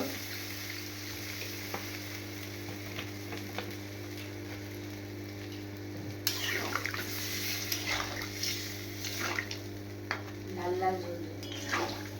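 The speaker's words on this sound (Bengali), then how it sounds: "এই একটু জল দিয়ে দেওয়া হচ্ছে, হালকা করে ভেজে নেওয়া হয়ে গেল, কষে নেওয়া হয়ে গেল।" Masala frying in a pan as a little water goes in, giving a steady sizzle with light stirring scrapes that turns brighter and more active partway through, alongside a constant low hum.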